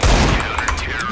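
Fast MP5 submachine gun fire crackles in CS:GO as a short, loud volley of close shots cut off after about a second.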